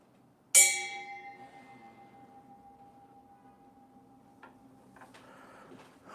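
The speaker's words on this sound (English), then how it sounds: "the wheel on my press here makes a beautiful meditation bell" The metal wheel of a printmaking press is struck once and rings like a meditation bell, a clear tone that slowly fades over several seconds. Faint small clicks and handling noises follow near the end.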